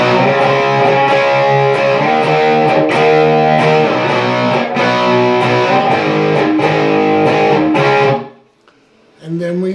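A distorted electric guitar plays the chorus of a song, loud strummed chords chugging in a steady rhythm before cutting off abruptly, then a final chord rings in after a short pause.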